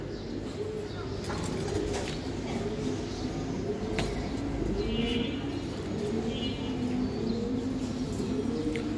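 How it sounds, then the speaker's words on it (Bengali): A pair of khaki pigeons of an old Chhara-chhari breed coo softly and repeatedly, low and steady against a constant background hum with faint distant traffic. "এক জোড়া খাকি কবুতর"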